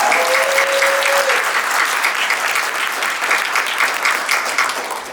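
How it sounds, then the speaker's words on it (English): An audience at a gaming convention panel in Las Vegas bursts into loud, sustained applause, dense clapping that carries on throughout and tapers slightly at the end. "Everybody give Hobbs a round of applause."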